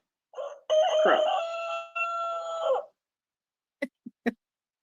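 A rooster-like crow call, one long drawn-out harsh cry close and loud, followed by three short sharp clicks or taps.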